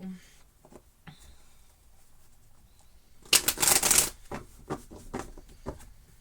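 A deck of tarot cards being shuffled, a short burst of riffling near the middle followed by softer taps and card handling, close and fairly quiet.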